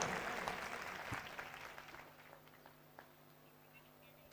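A church congregation claps during a sermon, a burst of applause that thins out and fades within about two seconds, leaving near silence and a sharp knock at the very end.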